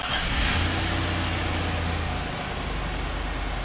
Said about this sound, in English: then we start up the car